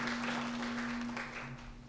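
Applause from a lunch-and-learn audience at Pisgah Legal Services welcoming a new immigration lawyer, Leo: soft, scattered clapping from a modest crowd that holds steady and then thins out, with a constant low electrical hum underneath.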